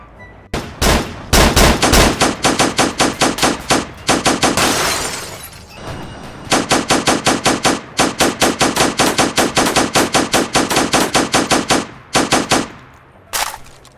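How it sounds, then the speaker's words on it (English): Rapid automatic bursts from a military carbine-style rifle in a Roblox shooter, loud and close, firing in long rattling strings with brief pauses between volleys and a short, hissing lull in the middle. "This is the military rifle, basically just a carbine but better."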